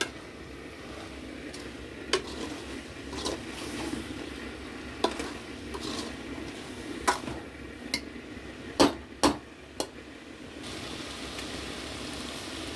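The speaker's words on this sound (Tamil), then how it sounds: "இந்த சோயாவை சேர்க்க போகிறோம். சேர்த்துட்டோம். அதை இப்போ நம்ம நல்லா கிளறி விட்டுக்கிடுவோம்." Soya chunks stirred into frying onions in a pan: a steady low sizzle broken by sharp, irregular clacks and scrapes of the spoon against the pan.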